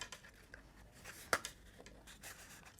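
Cardstock treat box flaps folded and pressed into place by hand, soft papery rustles and scrapes with one sharper crease snap near the middle, close and quiet.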